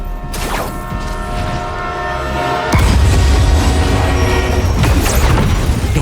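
A runaway train's horn blares in a video game, sustained tones over rumbling rail noise that jump much louder partway through as the heavy train thunders close, with crashing bursts near the end.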